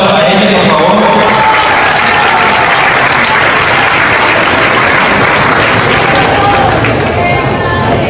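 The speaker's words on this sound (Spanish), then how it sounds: "Un fuerte aplauso para ellos, por favor." Loud, dense audience applause for award-winning teachers at a cultural competition and teaching excellence ceremony in Dosquebradas, sustained and close, filling the whole stretch with crowd noise.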